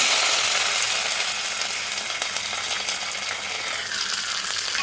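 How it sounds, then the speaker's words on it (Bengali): Curry leaves and mustard seeds tempering in hot oil with the gas turned off, a dense steady crackling sizzle heard up close, with no voices. "এই যে কারি পাতা এর মধ্যে ছোপ দেবো।"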